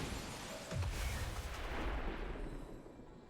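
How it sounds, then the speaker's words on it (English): Explosion in XCOM 2 with the Long War of the Chosen mod, a broad rumbling blast with a deep low boom that fills the clip and slowly fades. "Now I'm just waiting for somebody to move close enough to the explosion radius when this thing blows up here."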